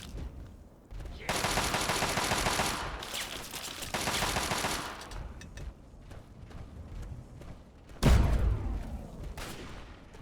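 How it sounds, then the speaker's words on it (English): Explosions and gunfire in Fallout 3 come as dense crackling bursts of rapid shots, followed by a heavy boom near the end, loud and close with little talking. "Now, stuff's exploding."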